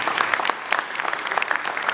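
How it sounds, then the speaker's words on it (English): Audience at a talk claps, a short burst of many hands with crisp individual claps standing out, fairly close and without speech. "Yeah, you can clap."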